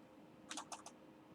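A short burst of four or five quick keystrokes on a computer keyboard, close and crisp, with a quiet room behind them.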